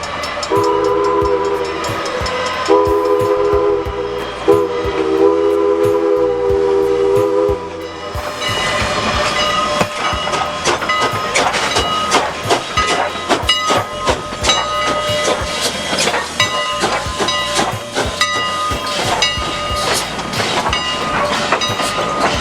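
Strasburg Rail Road steam locomotives at work, opening with a loud, sustained steam whistle in several blasts, then the rhythmic chuffing and clanking of the running train, close and continuous.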